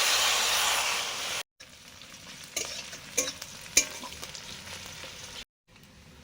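Water poured into a hot pan of fried fish head and onion with cumin paste, a sustained bright hiss that settles into softer bubbling with occasional sharp crackles and stirring clicks, close and loud.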